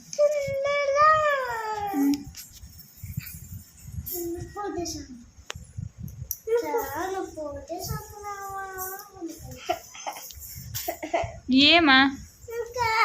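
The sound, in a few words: child coughing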